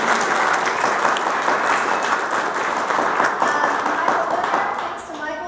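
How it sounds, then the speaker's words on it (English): An audience breaks into sustained applause after a community fence art project is credited, dense clapping at a steady level that fades toward the end. "So I think maybe a round of applause."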